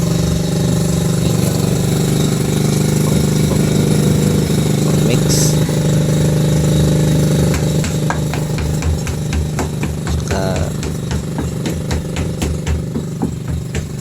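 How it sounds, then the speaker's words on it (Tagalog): A repaired small engine drives a homemade cement mixer, running with a steady mid-pitched chug throughout, and faint clicks and knocks sound over it. "Pinaandar po natin, inayos para may kabit po dyan sa mixer."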